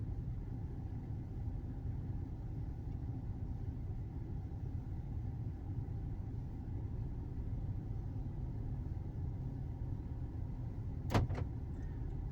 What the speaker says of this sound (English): Hopefully you heard the doors lock.